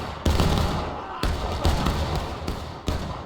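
Canister artillery fires in a War of Rights pub match, a loud, booming gunfire-like blast with sharp onsets and a long rumbling tail, with further reports following in quick succession.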